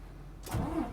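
A manual-transmission truck's engine cranks and catches, held in neutral with the clutch pushed in, then settles into a low, steady rumble, loud and close with no talk over it.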